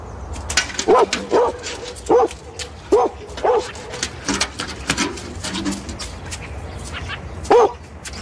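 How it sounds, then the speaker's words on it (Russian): A dog barks in short repeated yips, about eight in uneven bursts, with whimpering and soft rustling between them, close and fairly loud. "Хорошая собачка."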